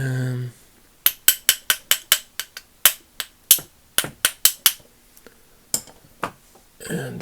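Small hammer tapping on the plate of a vintage Snap-on FV711 3/8-inch drive flexhead ratchet during a teardown, a string of sharp, close metallic taps in quick irregular bursts, with a brief voice before and a rustle at the end.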